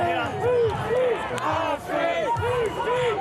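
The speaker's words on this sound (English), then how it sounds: "So guys, you see the crowd behind me, quite a lot of people here at the minute." A street protest crowd at a UK immigration protest shouts and yells in chaotic, overlapping bursts, loud and close, with rising and falling cries throughout.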